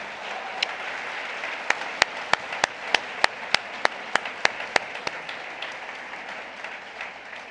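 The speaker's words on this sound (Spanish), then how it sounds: "Le damos un aplauso al que nos guarda." Church congregation in Guatemala applauding during a worship service, a steady wash of clapping with a run of sharp, evenly spaced claps standing out near the front, then fading into diffuse crowd noise.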